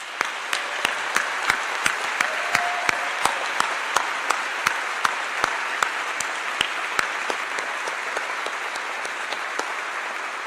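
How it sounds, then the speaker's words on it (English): Audience applause for award honorees at a university ceremony: a broad, sustained patter of many hands clapping, with a few sharp individual claps standing out in a steady rhythm before the crowd noise settles. "Let's give them all one more round of applause."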